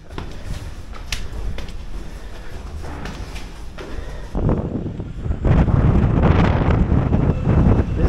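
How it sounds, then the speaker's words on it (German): Strong wind buffets the microphone in a steady roar that grows rougher and louder halfway through, with no voices. "das ist total windig"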